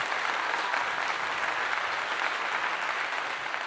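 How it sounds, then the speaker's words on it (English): An audience gives a full, continuous round of applause, dense and even from start to finish with no talking over it. "So round of applause for that."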